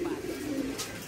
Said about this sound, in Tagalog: Tumunog to mga kalapatids.